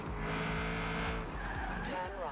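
A 1995 Mitsubishi Eclipse with a five-speed gearbox races in Forza Horizon 4, its engine rising through gear changes while tires squeal and skid, loud and close throughout.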